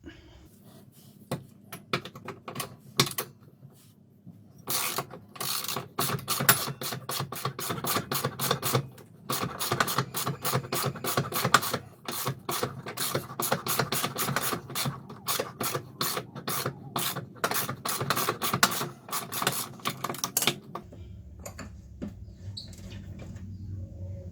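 Dense rapid clicking and ratcheting, like a jack being cranked under a Ford Mondeo MK3 ST220 during rear anti-roll bar bush work, runs steadily in a garage setting and stops abruptly near the end, leaving a low hum.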